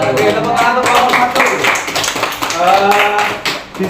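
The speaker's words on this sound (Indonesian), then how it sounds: "tepuk tangan untuk kelompok" Lively clapping from a class group, dense and fairly close, with voices mixed in throughout.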